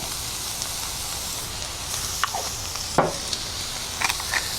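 A seasoned burger patty sizzles on a hot griddle, a steady close hiss of frying fat with a few sharp pops and crackles scattered through it, no talking.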